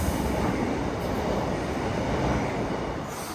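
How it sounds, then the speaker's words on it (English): A train rolls over a railway bridge, its steady rumbling roar and wheel noise loud and continuous throughout, with no talking. "Choo-choo! Catch the train."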